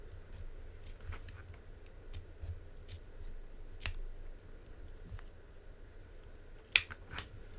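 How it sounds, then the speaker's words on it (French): Scissors cutting a yellow leather strap for a studded patchwork collar, a series of quiet, irregular snips and clicks up close, with one sharper snip near the end. "on découpe la sangle"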